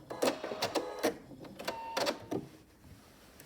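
A quilting machine stitches a quilt on a braided table runner, giving quiet rapid mechanical chattering bursts with small clicks, close but soft, and no voices.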